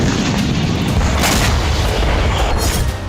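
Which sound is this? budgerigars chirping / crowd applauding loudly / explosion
explosion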